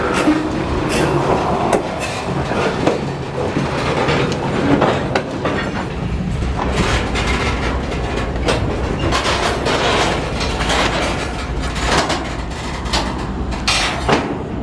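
A freight train shoves hopper cars back in, loud and close, with continuous rumbling wheels, clickety-clack over rail joints and faint squeals throughout.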